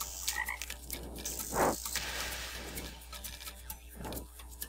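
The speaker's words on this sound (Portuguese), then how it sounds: "parece ter que recolher alguns sapos" Frogs croak in the match-3 video game The Treasures of Montezuma 4: several bursts of croaking over light game music and background effects, with one louder croak near the middle.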